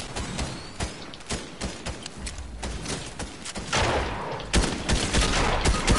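Rapid bursts of gunfire in a Fortnite match crackle throughout, dense overlapping shots with a heavier barrage near the end, loud and close.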